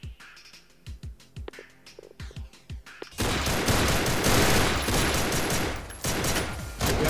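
Gunshots in Madness Interactive Reloaded: a run of separate sharp shots for about three seconds, then a loud, continuous barrage of rapid fire with no voices.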